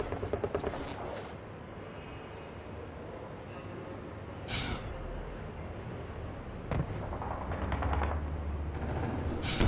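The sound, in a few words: gunfire in Half-Life 2 Deathmatch video game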